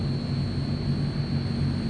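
Steady multi-engine turboprop drone of a Transall C-160 military transport in Microsoft Flight Simulator, heard from the open rear ramp; a continuous, even hum with strong low tones and a thin high whine, loud and unbroken.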